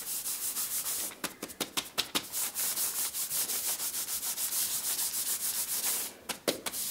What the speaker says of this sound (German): Ich schleife jetzt die Löcher auf, also quasi dieses Transparentpapier,